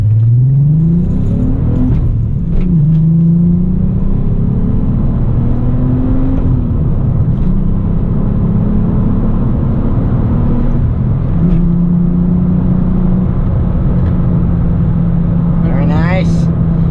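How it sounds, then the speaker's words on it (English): A Volkswagen Golf GTI with a VR6 engine accelerates hard through the gears from inside the car, its engine tone climbing and dropping at each shift, a mellow, steady drone heard close and loud throughout. "Let's do a quick little pull here."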